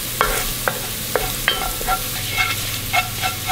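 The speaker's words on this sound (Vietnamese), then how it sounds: "Cho hết phần tỏi băm vào phi." Minced garlic fries in two tablespoons of cooking oil over low heat, a steady sizzle broken by several sharp clicks and scrapes as it is stirred in the pan.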